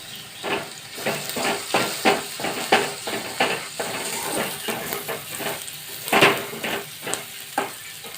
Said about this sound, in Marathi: आता कुटून घेतलेलं अद्रक लसण घालून घेऊया